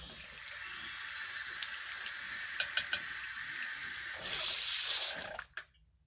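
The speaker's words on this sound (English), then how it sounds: "Oops, I turned on the water. And then I turned on the water too high." A bathroom tap runs steadily to wet a child's toothbrush, a close hiss of water that briefly surges louder near the end before cutting off abruptly.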